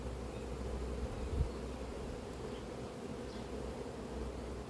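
Honeybees from a captured swarm, now housed in a hive, hum steadily and softly in a close, even drone for the whole stretch, with no voices.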